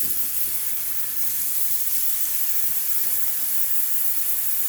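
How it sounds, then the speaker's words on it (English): Turkey bacon strips frying in a skillet, a steady, even hiss and sizzle that stays constant throughout without voices. "I'm gonna go ahead and put a few more strips of bacon in my skillet here. Get that fried up."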